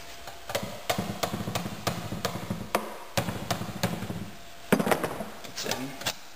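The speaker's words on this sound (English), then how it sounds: "Just use a hammer tap it in." A hammer taps a part into place during a rear tire change on a Honda CRF 150R dirt bike, giving repeated sharp metallic knocks in irregular bursts, close and fairly loud.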